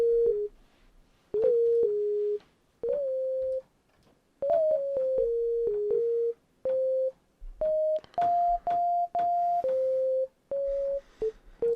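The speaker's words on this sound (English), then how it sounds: "little sine wave." Synthesized sine wave tones played in Pro Tools: a clean, steady melody of short sustained notes stepping between different pitches, separated by brief silences, alone with no voices.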